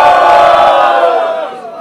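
A crowd at a rap battle held in a tobacco shop roars and cheers loudly and closely, a dense sustained wash of shouting voices that gradually fades.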